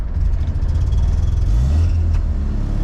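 1979 Mazda RX-7 rotary engine idling roughly nearby, a steady low uneven burble with a slight surge partway through, no talking.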